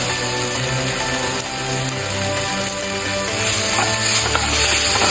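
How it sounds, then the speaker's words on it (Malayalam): Chicken curry being stirred and mixed in a pan with pepper powder and curry leaves, a continuous sizzling, scraping texture with no talking. "നല്ലോണം മിക്സ് ചെയ്യും."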